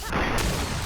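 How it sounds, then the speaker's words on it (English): An elemental explosion spell goes off in the fantasy role-playing game GreedFall, a loud, dense, roaring burst of noise that fills the whole short moment, with no voices. "Elemental explosion."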